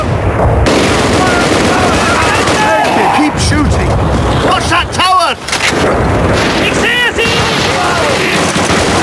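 Sustained machine gun fire and battle booms fill the Arnhem level of Call of Duty Road to Victory on PSP, loud and continuous, with shouting voices mixed into the gunfire.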